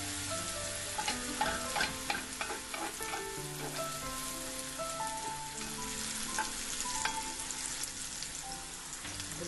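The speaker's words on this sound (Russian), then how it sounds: "и перец болгарский. Все это слегка поджариваем." Vegetables and bell pepper sizzle steadily as they lightly fry in a pan for a frittata, with a continuous crackle and scattered pops and stirring scrapes throughout, close and alone with no voices.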